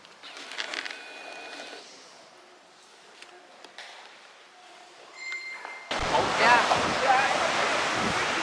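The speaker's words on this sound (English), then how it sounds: "Famous big waves." Big ocean waves at Nazaré, Portugal crash in a broad, loud rush with wind buffeting the microphone, after a quieter stretch of faint ambient noise.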